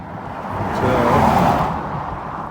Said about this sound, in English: I heard that car coming